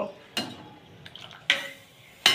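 Soaked rice being stirred in boiling water for chicken biryani: three sharp metallic clinks of a spoon against the pot, well spaced, with soft bubbling and scraping between them in a quiet setting.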